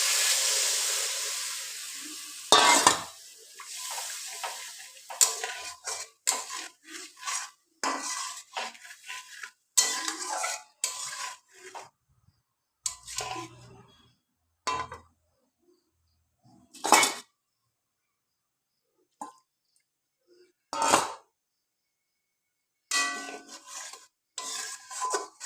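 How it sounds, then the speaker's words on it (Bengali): Spice paste with water being stir-fried in a pan for tel potol, heard as intermittent clinks and scrapes of a metal spoon against the pan with faint hissing, separated by quiet pauses. "জল দিয়ে মশলাটা কষিয়ে নেব।"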